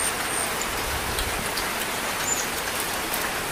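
Steady monsoon rain pours down during a rainy spell in flood-hit Silchar, a dense, even hiss of drops hitting surfaces with no break and no voices.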